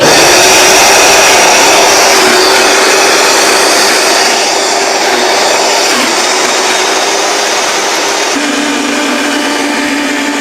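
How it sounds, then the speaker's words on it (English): A blender whirs loudly and steadily while blending mesquite barbecue sauce, its motor pitch shifting a little partway through and rising near the end, with no talk over it. "I didn't turn my blender to low before I started it."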